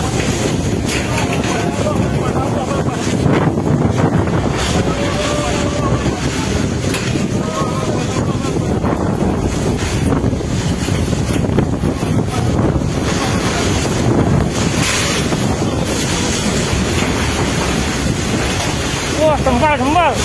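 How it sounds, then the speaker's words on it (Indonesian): A violent whirlwind tearing through Yogyakarta during a rainstorm: strong, roaring gusts buffet the microphone continuously, with rushing, surging noise swelling and easing, while voices call out excitedly beneath it. "Angin puting beliung ya Allah."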